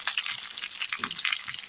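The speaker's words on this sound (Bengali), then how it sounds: "এবার ভাজা সবজিগুলো আমি একে একে কড়ার মধ্যে দিয়ে দেবো।" Vegetables for a traditional Bengali shukto are tipped one by one into hot oil in a kadai after fried potatoes, giving a steady, close, crackling sizzle throughout with faint stirring, and no voices.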